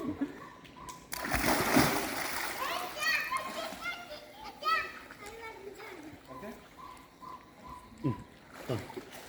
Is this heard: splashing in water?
yes